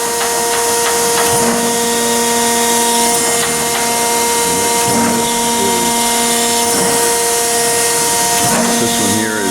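A Chevalier 1628AD 16 by 28 inch surface grinder runs a plunge grinding cycle, giving a steady machine whine with strong constant tones and a low hum, plus recurring brief grinding swells, close and loud throughout.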